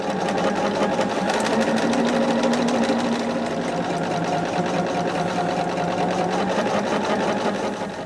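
A sewing machine runs steadily while quilt rows are pieced together for a Christmas gnome pattern, giving a continuous close, fairly loud mechanical hum with a fast needle rhythm and no pauses.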